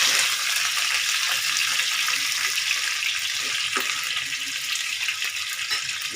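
Potatoes sizzling as they fry in a pan, a bright, continuous crackling hiss up close, steady throughout with no voices.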